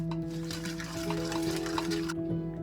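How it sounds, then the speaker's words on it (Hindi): Spoon mixing lemon juice, oil and dry spices into a thick paste in a bowl, a steady close scraping and squelching under a constant electrical hum. "इन सबको मिक्स करके एक पेस्ट सा तैयार कर लेंगे"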